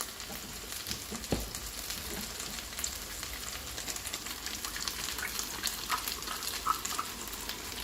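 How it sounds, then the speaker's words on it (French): Water and granulated stock go into a simmering pot, giving a continuous soft bubbling sizzle with one dull thump early on, moderately quiet and without talk. "je vais rajouter un peu d'eau avec le bouillon granulé"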